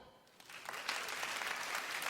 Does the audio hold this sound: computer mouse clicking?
no